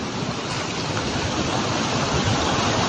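Water rushes through a breach by a river after an overnight burst, making a loud, steady, broadband roar like a torrent. The sound is close and unbroken, with no voices.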